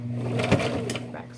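A sewing machine back stitches on a jeans hem, a short whirring run with a light mechanical clunk partway through, heard close up.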